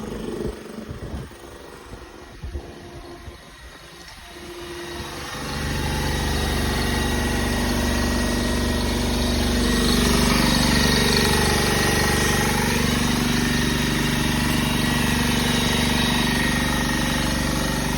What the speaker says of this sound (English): Air compressor filling the air tank.